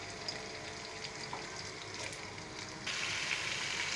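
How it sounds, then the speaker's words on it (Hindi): Chopped potatoes frying in six tablespoons of hot oil for aloo chawal give a steady, close sizzle with soft crackles, growing brighter and louder near the end. "मैंने 6 टेबलस्पून ऑयल रख दिया है गर्म करने के लिए। अब मैं इसमें तमाम कटे हुए आलू ऐड कर दूँगी।"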